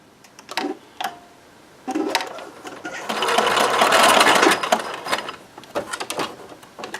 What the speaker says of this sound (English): So I'm going to sew less than 1/4 of an inch.